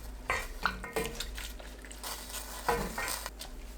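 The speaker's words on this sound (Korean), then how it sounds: "소주 100ml, 청양고추 넣고 한 번 더 뒤적거려 주세요." Sweet potato stems being stirred in a pan after soju and cheongyang chili peppers are added, with repeated clattering scrapes and taps of a utensil against the pan and a soft background hiss.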